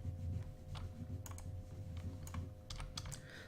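Keys tapped on a computer keyboard while working in Mudbox, a few separate clicks over steady background hum, fairly close and moderately loud, with no speech.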